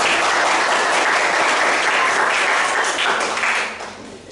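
Dense applause from a high school history class fills the room, steady and loud for several seconds before tapering slightly at the end.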